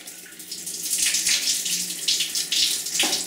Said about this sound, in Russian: Я включил насос, и вода побежала.